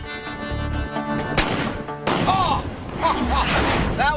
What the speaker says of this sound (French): la balle touche le C4